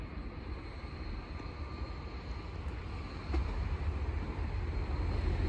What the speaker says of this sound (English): The next train to pass by is going to be a Stansted Express Class 745 from London Liverpool Street to